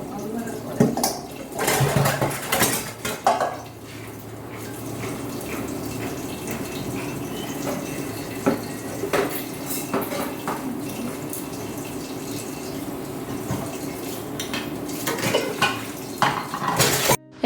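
A pile of leftover utensils is scrubbed at a sink with the tap running, a steady rush of water under repeated metal clinks and clatters of pots and plates.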